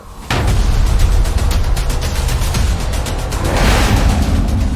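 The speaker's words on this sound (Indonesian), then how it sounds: "Dibuka dengan membakar kembang api" Loud rapid bursts of fireworks crackle and pop continuously, dense overlapping explosions starting abruptly and persisting throughout.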